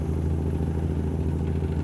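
Truck engine in American Truck Simulator droning at around 1400 RPM, a steady low rumble with a constant tonal hum and light rattle, even and unbroken, with no talk over it.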